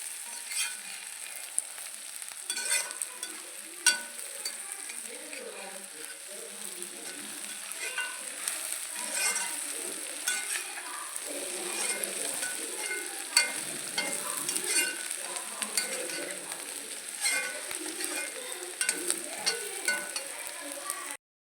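Chicken with crushed black pepper roasts in a hot pan, a steady, close sizzle with crackling pops and occasional stirring scrapes running throughout.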